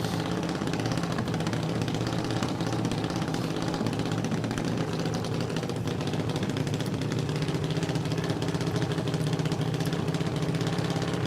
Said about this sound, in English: listen to the engines.